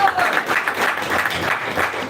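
Audience applause at a devotional evening event, a short burst of warm crowd clapping, fairly loud and continuous, with some voices mixed in.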